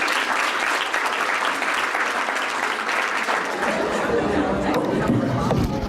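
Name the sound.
audience applause after a talk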